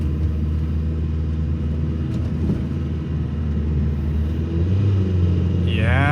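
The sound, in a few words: Nissan Pike car engine climbing a big hill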